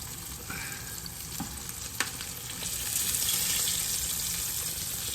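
A pork chop fries in fresh hot oil, a close, steady crackling sizzle with an occasional sharp pop, swelling slightly louder toward the end.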